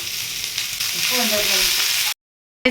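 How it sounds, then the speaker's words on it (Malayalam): Sliced onions hit hot melted ghee in a pan and are stirred, producing a loud, steady hiss and crackle with soft scraping, which cuts off abruptly into silence near the end. "ഇനി നമുക്കത് സവാള ഇട്ട് കൊടുക്കാം നന്നായിട്ടൊന്ന് ഇളക്കി കൊടുക്കാം"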